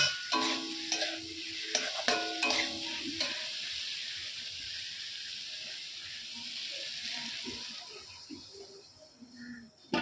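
A spiced Bengali curry being stirred and sautéed in a pan, with scraping and clinks of a spoon over a soft sizzle at first, fading to a quieter simmer hiss, close by, with no talking.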